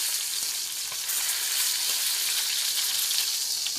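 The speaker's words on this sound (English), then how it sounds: "Don't forget to sear the fat cap too" The fat cap of a T-bone steak sears in butter with aromatics, producing an intense, close, unbroken sizzle of spitting fat, with faint stirring or basting noises and no talking.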